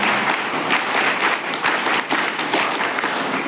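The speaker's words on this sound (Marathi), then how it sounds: "तुमच्या सगळ्या शिक्षकांसाठी टाळ्या वाजवा." Steady, full applause from a school audience clapping for their teachers, loud and continuous without any voices.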